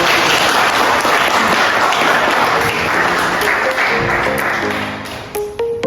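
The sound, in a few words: applause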